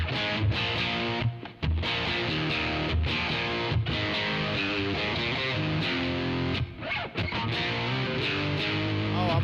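A Mojotone Studio One guitar amp at full gain drives a loud, heavily distorted electric guitar through sustained chords and riffs, with a couple of brief cut-offs between phrases.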